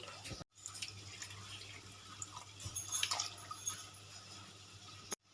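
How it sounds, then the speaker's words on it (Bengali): Water pours into a pan of cooking lentils (dal) in a home kitchen, a steady splashing trickle with faint drips and clinks over a low background hum, without any talking. "এখানে আমি কিছু পরিমাণে জল দিয়ে দিচ্ছি"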